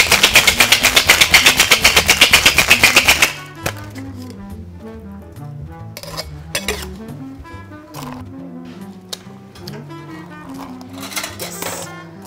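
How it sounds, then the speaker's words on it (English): A cocktail shaker full of big ice cubes for a plum anise daiquiri rattles in a fast, loud, rhythmic burst for about three seconds, then stops. Softer clinks and knocks of glass and ice follow. "Give it a good shake."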